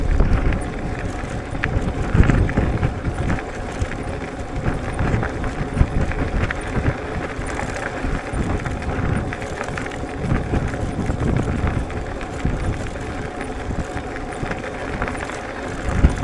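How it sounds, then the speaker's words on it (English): Strong gusty wind buffeting the microphone while riding a Wooken e-bike along a tree-lined road in bad weather; dense, continuous rumbling roar with surging gusts, loud and close throughout. "Gusts of wind."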